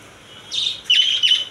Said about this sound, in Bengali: টেমিং সাইজের ককাটেল পাখির বাচ্চা পেয়ে যাবেন।